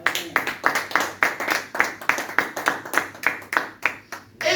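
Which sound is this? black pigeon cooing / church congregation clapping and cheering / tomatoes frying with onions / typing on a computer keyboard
church congregation clapping and cheering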